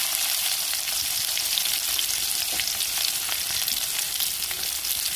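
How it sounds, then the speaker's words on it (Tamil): Urad dal, curry leaves and onion frying in hot oil, a loud, continuous close-up sizzle with a bright hiss and faint crackles, and no voices over it. "எண்ணெய் சூடாயிருச்சு கடை உளுந்து போட்டுக்கிறோம் கருவேப்பிலை போட்டு வெங்காயம் கொடுக்குறோம்"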